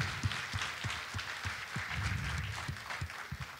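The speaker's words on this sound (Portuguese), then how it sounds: "Uma salva de palmas para a nossa próxima dupla." An audience applauds steadily, many hands clapping in a dense, continuous patter at a moderate distance.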